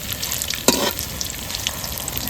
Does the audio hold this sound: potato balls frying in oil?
yes